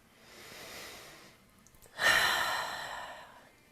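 Two slow deep breaths during a yoga flow for legs and shoulders: a soft, faint inhale followed by a louder, longer breathy exhale, close to the microphone with no talking.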